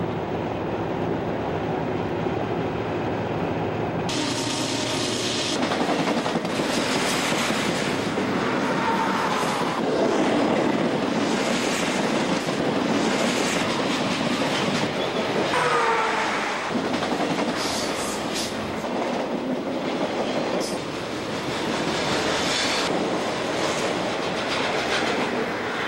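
A train rumbles past close by underneath on the Saskatchewan prairie for the whole stretch, with rhythmic clickety-clack of wheels and occasional high metallic squeals, loud and continuous.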